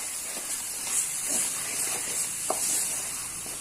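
Milk reducing in a hot pan while being stirred, giving a steady hiss and soft bubbling with faint scraping strokes and one small clink, close and continuous.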